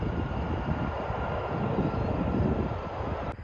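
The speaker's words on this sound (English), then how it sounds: "we've got an E145 or an ERJ-145LR Contour Aviation arriving in from Owensboro" Steady jet-engine roar of an Embraer ERJ-145LR regional jet arriving at Chicago O'Hare, a broad, constant rumble at moderate distance with no talk.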